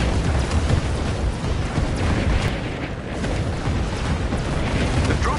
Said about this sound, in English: Their artillery's targeting you. Incoming!